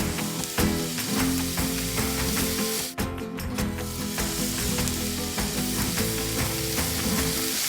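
Butter-brushed fruit slices sizzle steadily in a hot frying pan, a loud continuous crackle and hiss with a short dip partway through, no talking.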